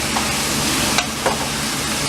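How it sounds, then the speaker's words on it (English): Zucchini being stirred with sauteing garlic in hot oil gives a steady close sizzle and fry hiss, with a couple of brief utensil scrapes partway through. "And now I'm going to stir these up. Get them combined with the garlic and the oil."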